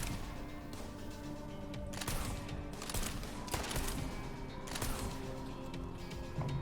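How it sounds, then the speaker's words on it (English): Repeated gunfire bursts in a Ninja Kiwi zombie shooting video game, a shotgun blasting again and again in loud irregular volleys with clattering impacts throughout. "Let me just shotgun this."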